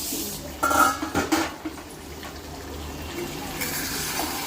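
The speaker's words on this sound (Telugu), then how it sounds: "ఒకసారి మూత తీసుకొని చూద్దామండి" A metal lid comes off a pot of village-style country chicken curry with a few quick clanks and scrapes early on. After that comes a quiet background with soft bubbling and kitchen noise.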